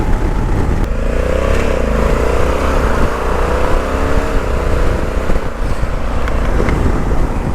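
A Honda Africa Twin DCT motorcycle with automatic gearbox being ridden, its grunty engine droning loud and steady along with rushing wind noise, no voices.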